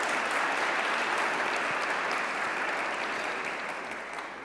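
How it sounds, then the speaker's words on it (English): Steady applause from an audience at a parish event fills the space evenly, a dense wash of many hands clapping at moderate distance and slowly tapering toward the end, with no voices over it. "Give them a round of applause."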